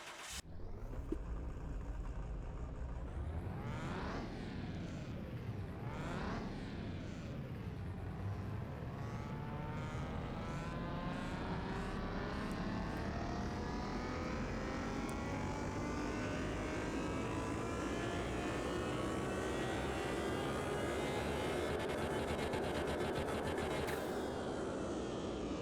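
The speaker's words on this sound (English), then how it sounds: "Now it's time to test the engine." A Nissan GT-R R35 engine tuned to about 900 horsepower revving on a dyno in Car Mechanic Simulator 2021, a loud continuous roar that rises and falls twice, then climbs steadily through the rev range.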